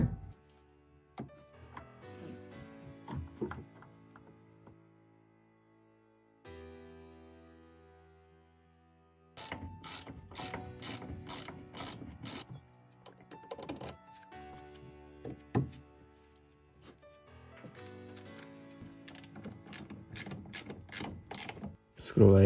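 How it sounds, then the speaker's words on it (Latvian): A hand ratchet tightens the driveshaft-to-differential bolts on a BMW E36, giving bursts of fast clicking with short pauses between runs, close and fairly quiet. "Skrūvēju iekšā puses skrūves, kur viss esmu notīrījis."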